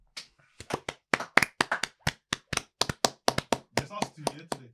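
A small group indoors claps hands in a loose, uneven rhythm, sharp separate slaps that speed up and bunch together toward the end, with a voice briefly chiming in near the close.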